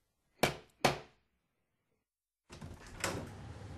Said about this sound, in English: A policewoman knocked at the door.